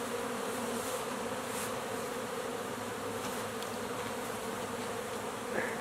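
Russian honey bees buzz steadily at the hive, a dense, continuous drone with no breaks that stays close and even in loudness from start to finish.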